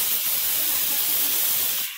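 Pressure cooker releasing steam in a home kitchen while dried bombil curry cooks, a loud, steady, close hiss sustained throughout before cutting off at the end.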